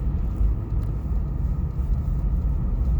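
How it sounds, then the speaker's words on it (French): A small tractor clears snow on a Montreal street during a big winter storm, a loud, steady low engine rumble heard close and alone, without talk. "Regardez le petit tracteur qui déneige."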